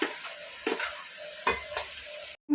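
A spoon stirs chicken and ground gongura leaves frying in a pan, with a scraping stroke every second or so over a steady low sizzle, close by and with no talking.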